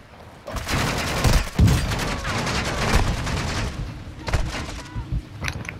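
Heavy gunfire in Call of Duty: Modern Warfare II, a dense fusillade of rapid overlapping shots that rattle on for several seconds, then thin out into scattered bursts near the end.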